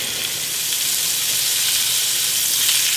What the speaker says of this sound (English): we've finished searing off all 4 sides